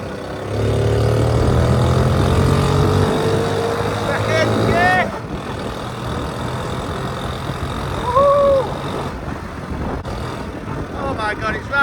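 A Honda Cub C70 motorcycle engine runs steadily close by, its note shifting as it is ridden, with brief voices over the engine.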